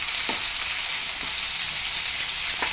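Okra frying over low heat in a pan with tempering spices, a dense, continuous hiss of sizzling oil, close and loud, broken by occasional soft knocks of stirring.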